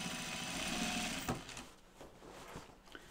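A sewing machine runs a wider top stitch along a pant seam, its steady whirring loud and continuous for about a second before a sharp thump and quieter intermittent handling noises.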